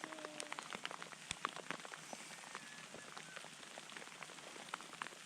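Sleet pelting down hard during a mountain storm, a dense, steady patter of icy drops striking surfaces close by, with a few sharper taps standing out over the continuous hiss.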